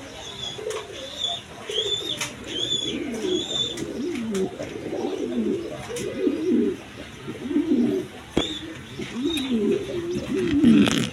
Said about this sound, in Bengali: এখানে এক পেয়ার কবুতর আছে, দেখেন ক্রিমবার বিউটি, তার বাচ্চারা খাওয়াইতেছে